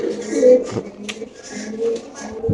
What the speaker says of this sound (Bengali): কবুতরে কথা বলে ভাই